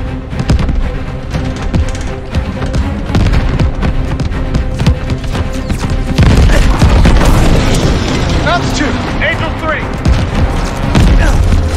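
Anti-aircraft tracer fire during a Call of Duty Vanguard bomber mission, heard as a continuous barrage of heavy booms and bursts that grows denser partway through, with voices talking over it.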